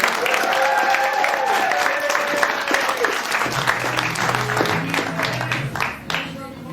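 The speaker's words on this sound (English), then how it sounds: "Let's give her a round of applause." An improv show audience applauds a player as she leaves the stage, a steady sustained clapping that lasts throughout, with a host's voice talking over it and laughter-like crowd noise mixed in.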